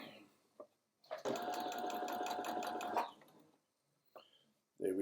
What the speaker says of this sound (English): Let's put the needle down and the foot, and let's sew.